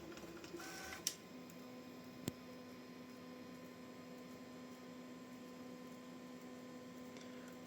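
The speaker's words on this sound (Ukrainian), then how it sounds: "Зараз віддає мені принтер детальки" A Bambu Lab A1 mini 3D printer hums and whirs steadily at low level, with a couple of sharp clicks early on, then continuous motor drone.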